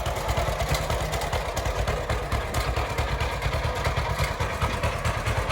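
Vintage John Deere H tractor engine chugging steadily nearby with a rapid, low pulsing putter that holds constant and loud throughout, no talk over it.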